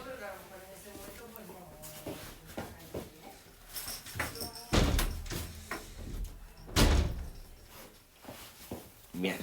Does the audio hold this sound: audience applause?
no